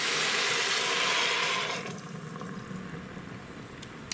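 Chicken stock poured into a pressure cooker over rice, a loud hissing sizzle of liquid hitting the hot pot that fades after about two seconds into quieter bubbling, close and without talk.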